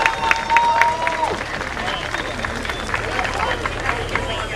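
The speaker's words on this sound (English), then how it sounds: "Let's give them a round of applause, ladies and gentlemen." Audience applause at a high school commencement ceremony, a dense wash of clapping and crowd noise with a whistle early on, steady throughout, with voices in the crowd.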